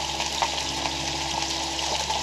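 Mushrooms cook in a pot over a campfire, giving a steady, even sizzling hiss with faint bubbling, close and unbroken.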